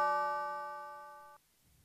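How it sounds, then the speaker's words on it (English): A sampled church bell in an FL Studio trap beat rings a single clear, tonal strike that sustains and slowly fades before cutting off abruptly. "This bell actually is a church bell."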